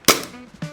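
A Glock 18 airsoft gas pistol is fired empty, giving two sharp, loud cracks about half a second apart as the slide snaps back and cycles, close by with no talk.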